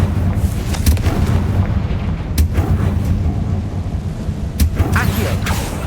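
A Confringo fire spell bursts with a deep, rumbling explosion in Hogwarts Legacy on PS5, over a dense, loud combat din with further sharp hits.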